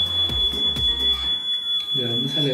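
A smoke alarm beeps with a steady, piercing high tone that runs throughout, triggered by a kitchen fire in a home, while people talk and react nearby.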